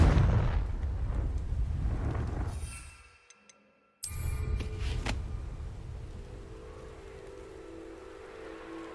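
Fiery Confringo spell explosions in the Hogwarts Legacy game: a loud, dense roar of blasts fades into near silence, then a sharp new detonation bursts in and settles into a sustained rumbling crackle.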